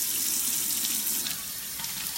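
A Norwex Envirocloth rinsed under a running tap in a kitchen sink, a steady, close hiss and splash of flowing water with light rubbing and gurgling, no voices.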